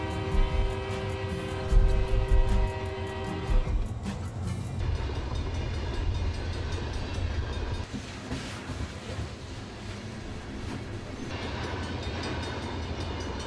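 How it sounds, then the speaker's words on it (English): A heavy coal freight train rumbles past with steady low roar and rattling wagons, a horn-like tonal blast sounding strongly in the first few seconds before fading into rolling clatter. "coal trains running alongside our highways and across the open valleys"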